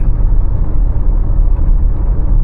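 Steady low road rumble from inside a car cruising on the highway toward Maithon, a continuous engine and tyre drone with no talk.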